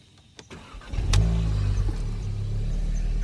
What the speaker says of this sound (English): Start the car the old-fashioned way.